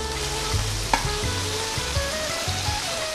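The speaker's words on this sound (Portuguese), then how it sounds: "Enquanto a fraldinha está selando" Flank steak sears in a nonstick frying pan with a steady sizzle, while a utensil stirs something nearby in a few soft scraping strokes at close range.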